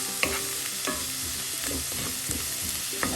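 Spatula stirring palak spinach thoran with salt in a pan, steady soft sizzle broken by several scraping strokes of the spatula against the pan, close and moderately loud, with no voices.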